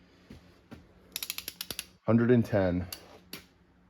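A torque wrench ratchets in a quick series of sharp clicks while tightening cylinder head bolts on a Jeep XJ engine, followed by a louder, longer mechanical rasp and a final click, close and clear with no talk.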